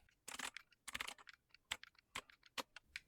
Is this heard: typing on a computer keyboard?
yes